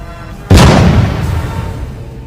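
A single heavy boom bursts out suddenly, loud and close, then rumbles and decays slowly over a couple of seconds.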